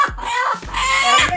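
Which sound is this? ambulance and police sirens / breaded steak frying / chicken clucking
chicken clucking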